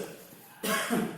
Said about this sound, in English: The doctor then asks the patient to cough